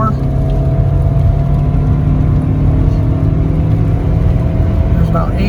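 A 2005 Toyota Camry with a replaced exhaust pulls hard under acceleration, a loud, steady low engine drone with road noise heard from inside the car, while a voice speaks briefly.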